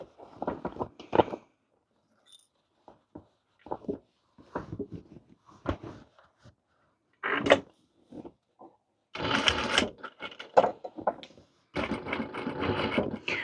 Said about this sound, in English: We're gonna sew inside of there.